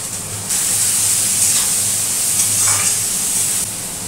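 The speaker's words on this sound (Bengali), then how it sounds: "সবজিটা একটু ভাজা ভাজা করে নিই" Vegetables seasoned with salt and turmeric fry in a pan, giving a loud, steady sizzle and hiss with scraping from stirring that swells briefly at moments.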